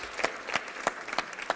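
An audience at the Global Pound Conference in Florence applauds the master of ceremonies, a dense, moderately distant patter of many clapping hands with periodic sharper bursts and no talk.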